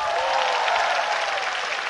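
A church congregation claps together, a dense, even wash of applause from many hands, continuous and fairly loud for the short span with no voices over it.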